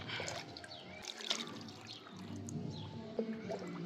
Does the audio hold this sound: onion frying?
no